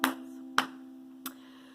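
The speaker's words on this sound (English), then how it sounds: "If you want to read a book, clap your hands." Three sharp hand claps spaced about half a second apart over a steady low hum, fairly quiet and alone, as in a children's storytime clapping song.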